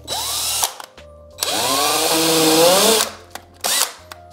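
A power drill bores pilot holes into a wall stud in bursts: a short whir, a long whining run that rises and falls with the load, then a brief final spin, all close and loud with no talk.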